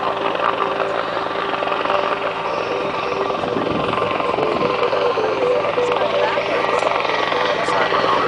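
A helicopter hovers and pivots at an outdoor airshow, its loud, steady rotor and turbine drone filling the air, while a commentator talks over it.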